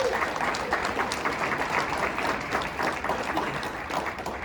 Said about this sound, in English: Please, one more round of applause for all their hard work.